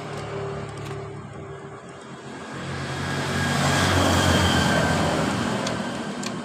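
Honda Supra motorcycle being kick-started: a low mechanical rumble that swells into a louder engine roar midway, then eases slightly, heard up close with no talk.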